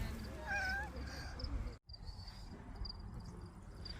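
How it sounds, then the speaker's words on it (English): A stray cat gives a few close, wavering meows outdoors on an Albanian road trip, with a steady insect chirr and a quiet voice in the background. "There's just cats everywhere, isn't there?"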